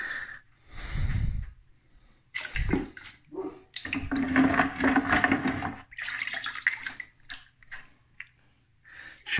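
Dirty water sloshing and splashing in bursts as rocks and minerals are shaken and rinsed, with pauses between the louder slops and drips, close to the microphone.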